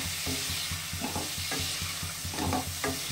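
Live foli fish curry being stirred and sautéed in a pan, a steady sizzle under rhythmic scraping strokes of a spoon, close and continuous with no talking.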